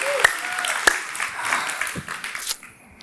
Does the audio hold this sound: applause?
yes